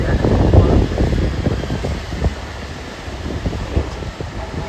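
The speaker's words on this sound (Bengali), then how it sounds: "যেমন হাওয়ার আওয়াজ পাচ্ছেন না আপনারা? জোরে হাওয়া চলছে।" Strong wind roars and buffets against the microphone in uneven gusts outdoors in Mumbai on rain-wet streets, with some rumbling in the background; no clear talk.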